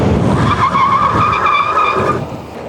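A HappyRun G100 Pro e-bike stopping hard from about 30 mph, with tires skidding in a sustained, wavering squeal that lasts a couple of seconds and then cuts off, loud and close.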